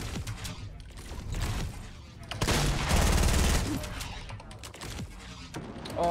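Shotgun blasts from a double-barrel shotgun in the battle royale video game Fortnite ring out over dense game noise, with a loud burst around the middle and scattered shots and clatter around it.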